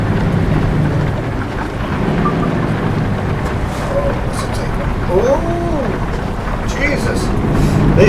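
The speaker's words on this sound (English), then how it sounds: "Proper rain like so" Heavy in-game rain pours down steadily in Euro Truck Simulator 2 as a truck drives, a dense hiss filling the scene with low rumble beneath, while someone talks over it.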